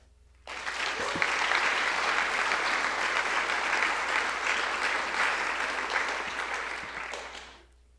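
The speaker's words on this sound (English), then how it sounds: "Please join us in a round of applause." An audience at a university coronation event gives a round of applause that rises quickly, holds as a full steady roar of many clapping hands for several seconds, then tapers off.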